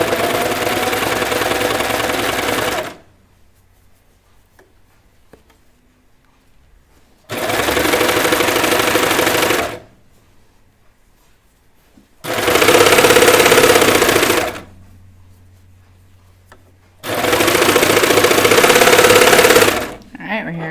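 Sewing machine stitching knit T-shirt fabric in four separate bursts of steady, close whirring, each a few seconds long, with quiet gaps between runs.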